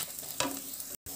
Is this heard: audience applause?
no